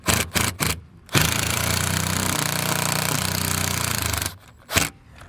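A power drill runs steadily for about three seconds, loud and close, mounting an awning bracket on an RV, with short bursts of mechanical clatter before and after.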